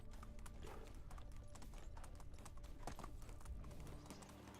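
A horse in the Medieval Dynasty video game clip-clops in quick, steady hoofbeats, a faint continuous trot over low background ambience.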